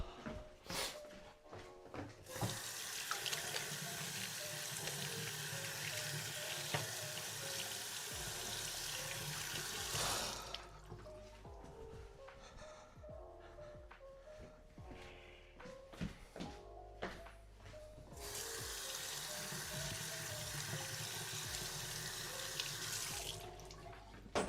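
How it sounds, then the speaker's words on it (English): Running water from a sink tap while hands are washed, steady and fairly close, with a pause in the middle before the flow resumes, plus a few small knocks and thuds. "I need to wash my hands again"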